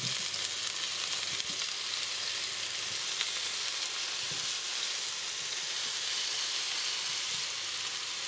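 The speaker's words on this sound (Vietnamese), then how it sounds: "Cái này gọi là áp chảo." Eggplant pan-frying in a couple of spoonfuls of hot cooking oil, a constant dense crackling sizzle heard up close, steady and unbroken throughout with no talking.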